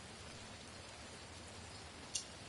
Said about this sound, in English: You can tell something's wrong because it's raining indoors